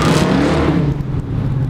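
A 1969 Chevy Camaro engine roars in one loud, close rev, sustained and rough for under two seconds with no voices.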